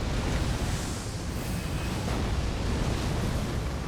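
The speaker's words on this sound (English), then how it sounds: "How did that explosion not hit?" A magma spell exploding in a video game, heard as a dense, continuous roaring rumble with heavy low-end, loud and steady throughout and free of any voices.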